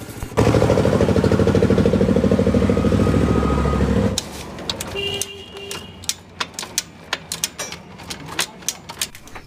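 A motorcycle engine runs loud and steady for a few seconds after a gear repair, then cuts back, leaving sharp intermittent clicks and knocks of mechanical work.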